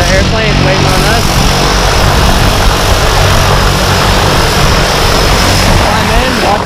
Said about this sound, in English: There's an airplane waiting on us.